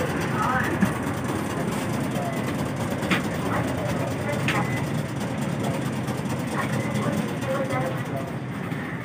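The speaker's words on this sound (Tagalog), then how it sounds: "Sasakay kami sa tram" Steady rumble of a moving tram in Nagasaki, riding inside the car, with faint squeals and clunks over continuous rolling noise and voices murmuring in the background.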